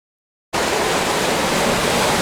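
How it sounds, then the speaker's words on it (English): Waves break on a lakeside shore at Split Rock Lighthouse State Park, a loud, continuous wash of surf that starts abruptly after a moment of silence and carries on steadily. "You might not be able to hear me over the waves"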